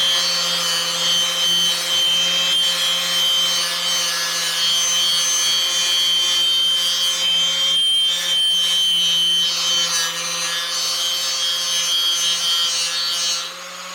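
Rusty metal parts of a 1953 Mobylette AV33 moped being sanded in a shed, a steady close abrasive rasping that carries on without a break under a constant hum, with no talking.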